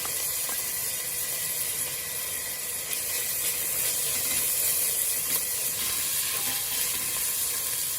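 Jeera, ginger and garlic sizzling as they hit hot oil in a pan for dhall; a steady, loud frying hiss that carries on without a break, with no talking.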